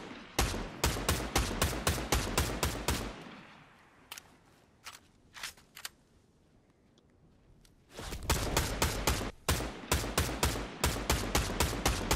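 Rapid gunfire bursts in a shooter video game, loud and close, with dense volleys at the start, a few scattered single shots through a quieter middle stretch, then heavy sustained fire again toward the end.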